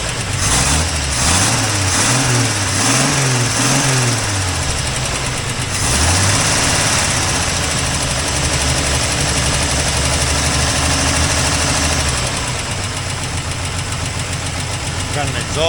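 Toyota Land Cruiser FJ60 engine running loud and steady with an exhaust leak, a rough low rumble with revving swells early on, then settling into a sustained idle throughout.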